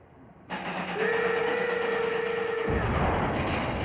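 A locomotive train in old film footage: a loud rumbling roar rises abruptly, a sustained whistle tone sounds over it for a couple of seconds, then the heavy rolling noise continues.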